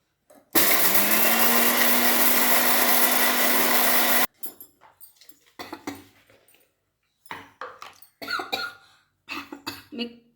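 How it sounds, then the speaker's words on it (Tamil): A mixer grinder runs loud and steady for about four seconds, grinding roasted chili with salt and garlic into a garlic chili powder, then stops abruptly, followed by scattered clatter and brief voices. "மிக்சியில் ஒரு ஓட்டிட்டு வந்து"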